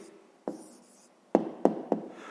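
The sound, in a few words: writing an answer by hand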